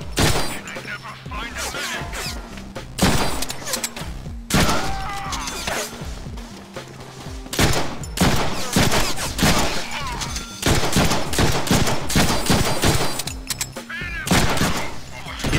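Gunfire in the Deadpool video game, a gun set to perforate: loud, dense volleys of rapid shots come in repeated bursts with brief gaps, crackling and punchy throughout, with game voices mixed in.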